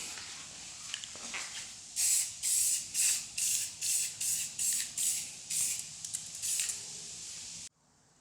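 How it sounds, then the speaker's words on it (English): Brown spray paint hissing from an aerosol can in short, regular bursts, about ten quick sprays in a row, close and clear, followed by silence. "light coats of brown spray paint"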